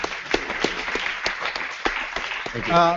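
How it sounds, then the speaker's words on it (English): Audience applause at a Caribbean startup summit, a dense patter of clapping across a room with a few sharper claps standing out, moderately loud and close, ending in a brief swell with a voice. "give them a round of applause for that"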